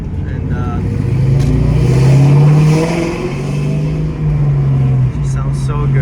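A 2004 Ford Mustang GT engine revs while driving, a loud low rumble rising and easing in waves from inside the car, with a person talking over it.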